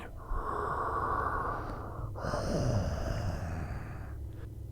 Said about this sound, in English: There comes the sound of footfalls and something breathing.